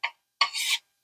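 A utensil scrapes a loaded potato egg casserole dish in two strokes, a short rasp and then a longer grating one, close and fairly loud, with no talking.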